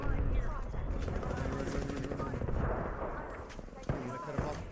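Video game gunfire in a multiplayer shooter, with dense, continuous bursts of shots and booms forming a loud, steady din behind players talking.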